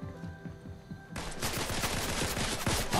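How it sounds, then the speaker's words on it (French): Gunfire in the video game Fortnite, a rapid sustained burst of shots that starts abruptly and stays loud, after softer game sounds. "On me tire dessus."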